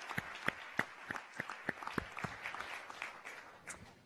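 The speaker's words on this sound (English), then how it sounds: "Let's give them a round of applause" A small audience claps at a fisheries forum, a faint, distant round of separate claps that blends into a soft patter and thins out toward the end.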